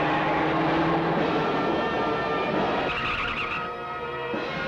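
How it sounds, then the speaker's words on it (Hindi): A car races past at high speed in a Hindi film scene just after a tyre puncture is fixed. The roar is loud, continuous and rushing, with a skidding, screeching edge that swells and shifts partway through. "अरे गाड़ी बहुत तेज जा रही है, भागो।"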